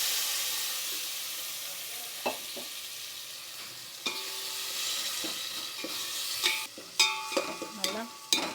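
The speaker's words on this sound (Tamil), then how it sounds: "இதுவாக நம்ம வந்து இப்போ தக்காளி அரைச்சி வச்ச தக்காளியை இதை ஊற்றிடலாம்." Ground tomato poured into a hot pan for South Indian rasam, with a soft steady sizzle and scattered spoon scrapes and clinks of stirring, close and moderately quiet.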